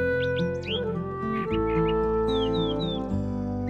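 A blue jay calls in a Florida backyard, giving a few short, bright chirps and rising calls over a steady tonal background that persists throughout.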